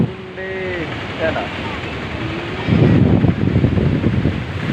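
Waves washing in at a shore during a family outing, a broad rushing surge that grows louder midway, heard near and loud amid wind noise with voices calling faintly in the background.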